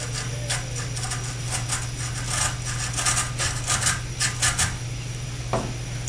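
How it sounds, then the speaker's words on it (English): A hand saw rasps back and forth cutting a notch into a rod, a close, steady scraping of repeated strokes with no talking. "I like to use the saw again to begin cutting out a notch or a flat spot to lay that wire back against"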